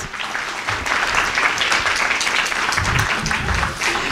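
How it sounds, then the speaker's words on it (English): An audience at a Sunday gathering gives a round of applause to visiting musical artists, close, loud and continuous clapping from many hands with a few low thumps mixed in. "give them a big round of applause"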